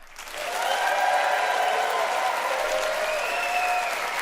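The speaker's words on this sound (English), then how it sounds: "By applause, who thinks that Tim's ski and snowboard sentences sold it the best?" A studio audience of a comedy debate show breaks into sustained applause that swells quickly and holds steady, with a few cheers and whoops rising above the clapping.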